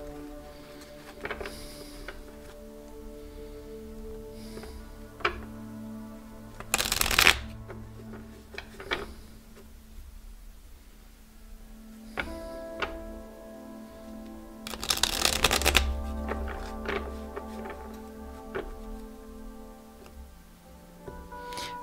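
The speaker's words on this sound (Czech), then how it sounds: "Já si tady budu ještě chvilinku míchat karty" Tarot cards being shuffled by hand, a steady papery riffling with two louder bursts of cards snapping together, close and alone with no voice.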